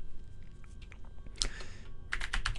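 Keys tap on a computer keyboard in a quiet room, a few soft scattered clicks and then a brief burst of faster typing with a firmer keypress near the end.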